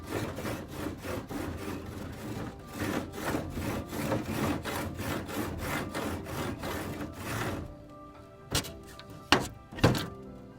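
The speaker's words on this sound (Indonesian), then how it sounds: "saya akan gergaji dulu batang ini" A hand saw rasps back and forth through a tree branch in steady strokes, ending with a few separate knocks and thunks as the cut finishes.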